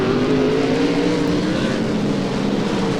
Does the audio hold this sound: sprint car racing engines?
yes